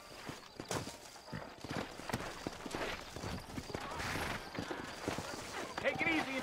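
Horse hooves clip-clop steadily at a walking pace while riding in Red Dead Redemption, a game scene, with voices talking over the trotting.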